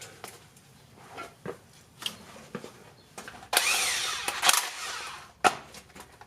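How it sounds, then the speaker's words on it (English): A DeWalt 1/2-inch impact wrench works on a pickup truck differential, giving short scattered bursts followed by one longer rattling hammering run of about two seconds, then a final sharp burst. "Maybe the bigger dewalt will make it work. I have to go to 1/2-inch impact for this job."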